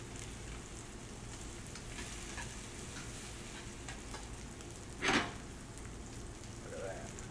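Pasta tossed through sizzling garlic butter in a pan gives a steady, even frying hiss throughout, with one brief louder sizzle burst midway and a soft rattle of stirring near the end.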